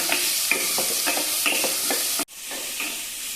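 Sliced onions sizzle and fry in a pan for a green peas stew, with a spoon scraping and stirring through them in repeated strokes, close and clear, with no talking.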